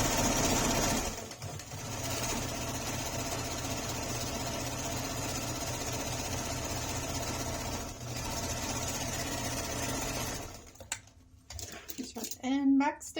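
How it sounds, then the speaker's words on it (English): A home sewing machine stitching a quarter-inch seam along the presser foot edge on a fabric water bottle sling, a steady fast motor whir running for about ten seconds with a brief pause, then stopping as a voice speaks. "I'm going to put it in my machine at 1/4 inch, which is the edge of my presser foot, and I'm going to stitch all the way down"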